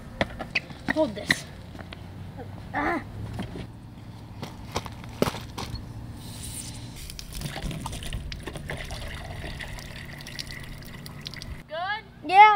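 Water pours and splashes in bursts amid clinks and handling noises while making lemonade, with muffled voices in the background.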